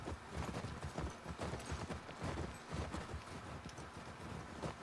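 Horse hooves clip-clopping in The Last of Us Part 2 video game, a steady close gallop rhythm with wind-like noise underneath.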